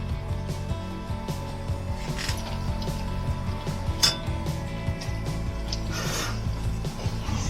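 Forks shred Korean BBQ pulled pork inside a Dutch oven, making soft scraping, rubbing and clinking sounds in a steady, irregular rhythm up close, with occasional sharper taps of metal on the pot.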